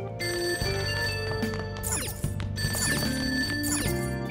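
A telephone rings downstairs in the video game Persona 5, its repeated trilling bell rising over steady background music and continuing without pause.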